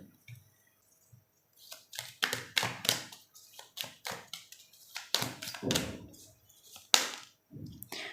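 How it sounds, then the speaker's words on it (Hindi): Tarot cards being shuffled by hand close up, a quick irregular run of taps, flicks and soft slaps as the deck is cut and riffled, with brief pauses and no talking. "मैं करती हूँ कार्ड्स को शफल"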